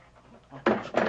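A found dog panting in a short burst, two quick breathy rasps close by after a quieter murmur, brief and fairly loud.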